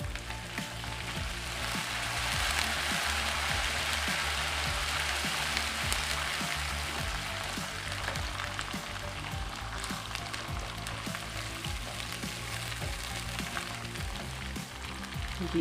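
Green chili paste sizzling and frying steadily in a hot pan, a continuous crackle with scattered pops, close and alone without talk.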